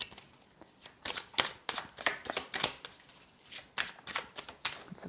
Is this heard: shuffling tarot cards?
yes